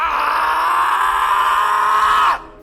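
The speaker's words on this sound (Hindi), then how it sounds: "किसी पुरुष की कराह" A man groans in one long, strained, sustained moan that cuts off abruptly after a couple of seconds.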